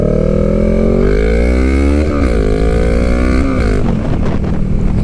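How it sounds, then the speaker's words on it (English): Honda Rebel 500 motorcycle with a Shorty GP exhaust, a loud close engine drone that holds steady, then rises and falls as the revs change, with wind rumble underneath. "I added the Shorty GP exhaust, which you just heard"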